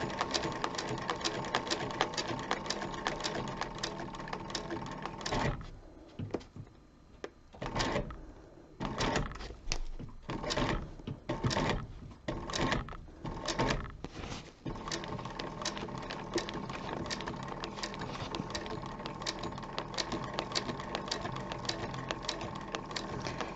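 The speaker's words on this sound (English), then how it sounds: "If you do very slow stitching, you will have less inconsistencies and less wobbling on your wallet" A sewing machine stitches a zipper onto a leather wallet, running in steady close bursts with a stop-and-start stretch of short pulses in the middle before settling back into continuous stitching.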